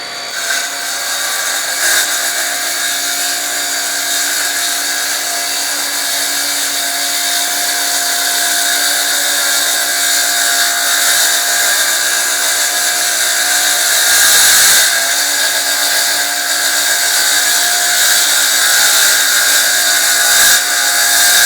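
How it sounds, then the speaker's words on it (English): A track saw cuts through wood at a steady, comfortable pace, its motor whining loud and even without bogging down, holding a constant high-pitched drone throughout with a brief dip near the end. "I'm just gonna make the cut at a comfortable pace, making sure that I'm not bogging down the motor"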